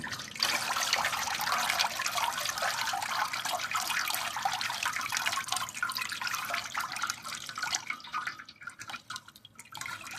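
Grated coconut mixed with water is squeezed by hand, giving a steady wet trickling and dripping that runs close and fairly loud, thinning out toward the end.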